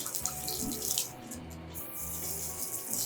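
Tap water runs steadily into a sink, soaking a stiff, stuck knot to loosen it; a continuous close hiss with faint low rumble, no voices.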